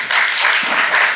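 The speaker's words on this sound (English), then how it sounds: "Clap if you're an only child." A stand-up comedy crowd claps steadily for just over a second, a dense, even wash of applause from the audience at a comedy show, with no talking over it.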